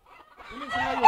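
A white-beaked, white-legged fighting cock at a breeding farm gives a short, close run of low clucks and throaty calls that rises in loudness, ending on a brief sharper note.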